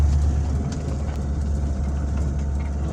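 A VAZ 2111 car rolls over rough ground through gardens and fields, its engine a steady low rumble with a constant drone, moderately loud and close, with no voices over it.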